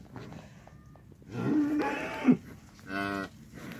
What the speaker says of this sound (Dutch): En kijk eens, een kalfje in de wei.